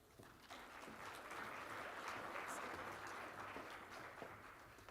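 Audience clapping to welcome speakers at an agriculture seminar held by the Colorado Department of Agriculture, steady applause from a crowd in a hall, moderately distant and fairly quiet.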